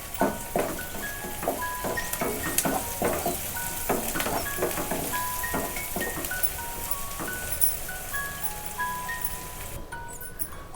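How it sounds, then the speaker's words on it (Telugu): Ginger garlic paste and curry leaves frying in a pan, a steady close sizzle with sharp crackles and pops, plus faint clinks and a high tonal chime running underneath. "అల్లం వెల్లుల్లి పేస్ట్ పచ్చివాసన పోయేంతసేపు ఫ్రై చేసుకోవాలి."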